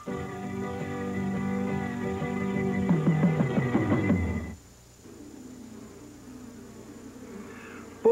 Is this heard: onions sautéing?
no